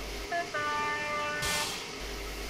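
A high-speed train in the Trainz railway simulator sounds a sustained tonal horn in two blasts, backed by a steady rumbling hiss, with a brief burst of noise near the middle.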